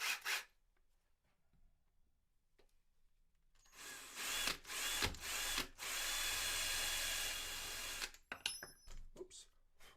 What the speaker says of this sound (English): Drill those down a little bit, a couple of millimeters.